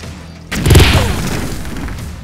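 A grenade goes off in the video game Jagged Alliance 2, one loud deep boom after a brief quiet moment, with a rumbling tail that slowly fades.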